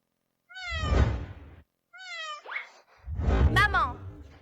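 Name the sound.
cats meowing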